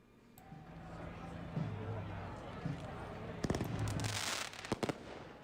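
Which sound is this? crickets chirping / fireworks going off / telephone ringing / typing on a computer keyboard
fireworks going off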